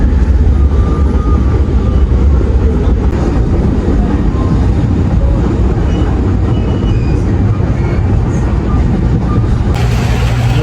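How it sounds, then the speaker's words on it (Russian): A train on the line to Machu Picchu rumbles steadily throughout, a loud, continuous rolling roar heard from inside the carriage with faint clatter and no clear talk. "Вот на этом поезде, такой очень похож на детскую железную дорогу."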